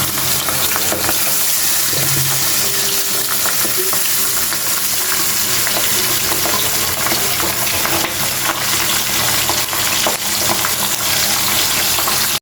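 Pabda fish frying lightly in a pan give a loud, steady, close sizzle and crackle for the whole stretch, with no one talking.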